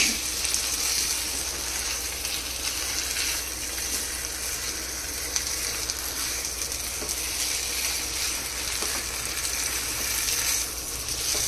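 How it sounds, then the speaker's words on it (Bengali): Chicken bhuna cooks dry in a pan without any water, giving a steady, dense hiss of frying that holds evenly at close range from start to finish. "এটাতে কিন্তু কোনো জল ব্যবহার করা হবে না, ফ্লেমটা মাঝে মধ্যে বাড়িয়ে এবং মাঝে মধ্যে কমিয়ে এটাকে কষতে হবে।"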